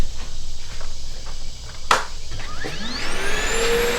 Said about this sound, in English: hit the vacuum